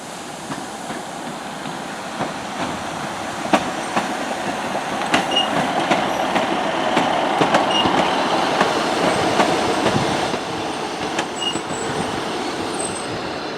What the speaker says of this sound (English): Class 37 diesel locomotive is dragging 2 Class 508 electric multiple units